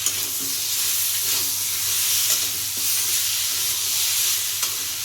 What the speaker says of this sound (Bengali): এবার এই মশলার সঙ্গে আলু পুঁই ডাঁটাটা ভালো করে একটু কষে নেব।